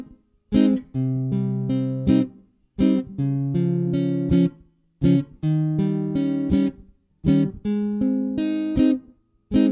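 Acoustic guitar strumming the chords of a song at normal tempo: four clear bursts of rhythmic down-and-up strums, each ringing chord separated by short gaps, close and fairly loud with no voice.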